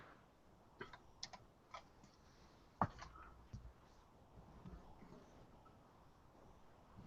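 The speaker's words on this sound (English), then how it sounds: "I'm typing the thing out." Quiet keystrokes on a computer keyboard come in short, irregular bursts with pauses between them. One sharper click stands out, and a faint background hum runs underneath.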